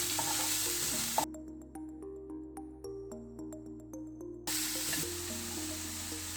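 Chopped shallots sauté in a pan, a steady hissing sizzle at the start and end, with a soft melodic tune playing alone through the middle stretch.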